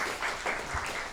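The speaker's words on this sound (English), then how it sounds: "Give yourselves a round of applause for giving that a try" Brief scattered applause from an audience at a small magic show, a short soft burst of clapping heard from a middle distance, about a second long.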